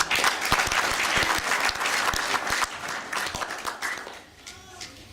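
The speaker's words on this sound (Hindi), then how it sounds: "इनके लिए जोरदार तालियां" Hearty audience applause fills a tribute concert hall at a Hindu temple in Southall, UK, a dense burst of clapping with sharp individual claps that gradually thins and fades toward the end.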